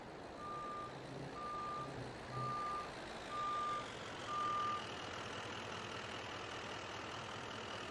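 Gravel delivery truck in Farming Simulator 22 backing up, five evenly spaced reversing beeps over a steady diesel engine rumble, then the engine idles on alone.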